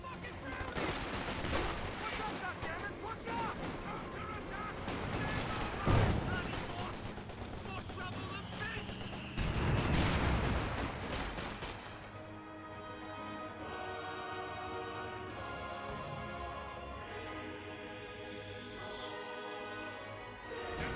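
Volksgrenadier infantry in the WWII strategy game Company of Heroes 2 unleash sustained rifle and machine-gun fire, dense crackling volleys with heavier blasts mixed in, fading to quieter distant shots beneath ambient battle noise.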